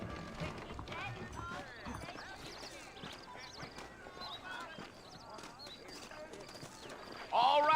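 Horses' hooves clip-clop steadily at a run in the Red Dead Redemption video game, a continuous rhythmic patter with game dialogue speaking over it and a louder burst of sound near the end.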